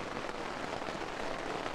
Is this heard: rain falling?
yes